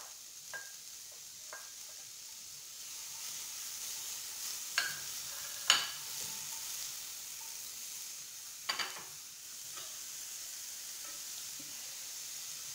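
Onions frying in a hot pan for a coconut fish curry, a soft steady sizzle with a few clatters of stirring and utensil knocks, close and fairly quiet, no talking.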